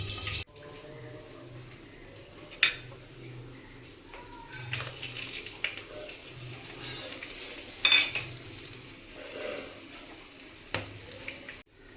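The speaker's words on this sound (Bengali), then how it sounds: "এবার কড়াইয়ে ওই তেলের মধ্যেই দিয়ে দেব গোটা গরম মশলা আর শুকনো লঙ্কা।" Whole garam masala and dried chillies fry in hot oil in a wok, giving a continuous soft sizzle broken by a few sharp clatters of a stirring spoon and pan sounds, with no talking.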